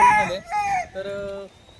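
Native desi chickens cluck and squawk close by in Badlapur, Thane, a few short bursts followed by a longer drawn-out call, with a faint voice in the background.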